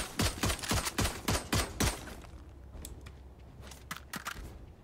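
Rapid burst of about seven sharp gunshots in Valorant, loud and evenly spaced, followed by a quieter lull and a few scattered single shots near the end.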